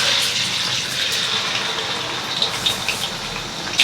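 Steak sizzles loudly in hot oil, a dense crackling hiss with occasional sharp spits and pops close by, and no voices.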